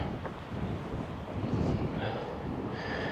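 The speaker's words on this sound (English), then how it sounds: "with that wind blowing" Steady wind buffets a microphone on a Bristol Channel shore during a fishing session, a broad continuous rumble with gusts rising and falling, and faint surf underneath.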